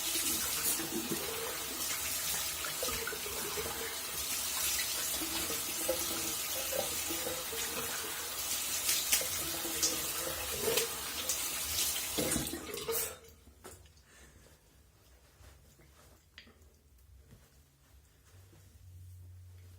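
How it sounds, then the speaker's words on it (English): Tap water runs steadily and fairly loud into a sink while a 1977 Gillette Atra razor is rinsed, then cuts off partway through, leaving a quieter room with faint handling noises. "Let me rinse off real quick."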